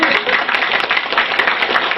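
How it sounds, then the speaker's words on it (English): Sustained applause from a lecture audience, a dense even wash of many hands clapping steadily and close, with no pauses. "Claps to all of you."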